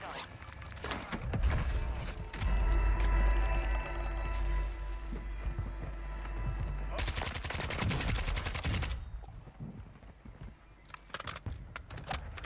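Rapid bursts of automatic gunfire in the Warzone shooter from Modern Warfare II during ranked play, busy and layered with game effects and rumbling explosions, crackling shots near the end, with a player talking over it.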